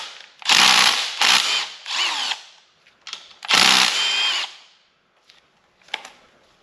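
Power tool, likely an impact gun, zipping out two bolts from an LS2-style timing chain tensioner on a 1992 Firehawk Trans Am tribute getting an LS3 swap, with several loud close bursts and short pauses.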